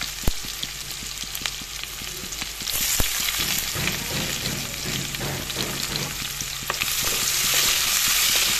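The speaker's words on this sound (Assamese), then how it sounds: "শুকান জলকীয়া কেইটাও দি দিলোঁ। এইখিনি অলপ লৰাই ল'ম।" Dried red chillies frying in oil with garlic, a dense close sizzle with scraping stir strokes and scattered crackles, growing louder toward the end, with no talking.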